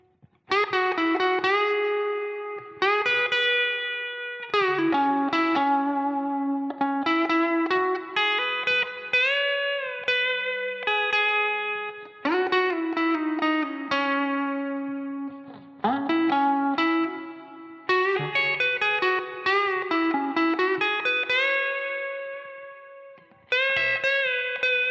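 An electric guitar played through a Line 6 Helix with a Variax, dialed in for a signature tone, rings out in sustained notes and short phrases washed in echo and reverb, moderately loud with no talking.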